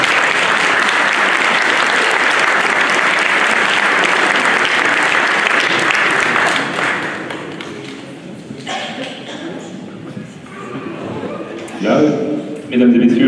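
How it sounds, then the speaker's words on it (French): A crowd applauds loudly and steadily for several seconds, then the clapping thins out and fades as murmuring voices and a few scattered bumps take over. "on peut l'applaudir également"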